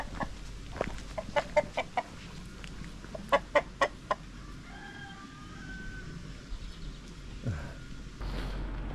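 A rooster clucks at a rural stop along a hiking trail, giving a quick run of sharp, evenly spaced clucks followed by another rhythmic series, close and clear over a low outdoor rumble, then fading into quieter background noise.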